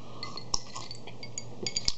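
A glass of iced Coke clinks a few times, with two sharp glassy chinks standing out against quiet room noise and no talk.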